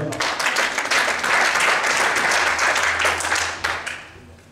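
A church congregation applauding, sustained dense clapping from a crowd that rises, holds steady and fades toward the end, with faint voices mixed in.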